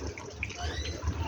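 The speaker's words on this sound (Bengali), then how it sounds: "তার সাথে আমি একটু গরম জল রেখেছিলাম, এটাও দিয়ে দিলাম" Hot water poured into a pot of chicken curry with fried potatoes, a brief liquid splash and gurgle lasting just over a second.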